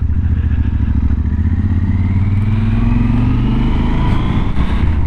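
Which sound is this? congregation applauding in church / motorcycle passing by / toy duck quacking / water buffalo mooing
motorcycle passing by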